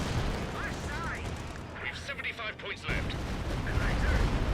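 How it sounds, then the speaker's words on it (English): An incendiary artillery barrage in Company of Heroes 2 rolls out as a continuous dense rumble of blasts and crackling fire, loud and sustained, briefly thinning partway through before swelling again. "Incendiary artillery barrage on top of the Bofors."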